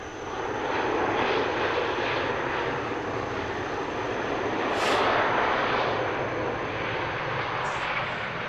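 A Delta Connection airliner at Harrisburg airport at night gives a steady, fairly loud engine roar that swells slightly midway, with no talk.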